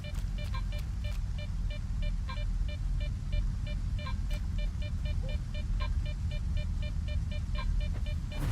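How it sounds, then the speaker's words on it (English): A detector in the video game S.T.A.L.K.E.R. 2 beeps at a regular pace, short electronic chirps repeating over a constant low rumble of background ambience. "We just have like a generic beep."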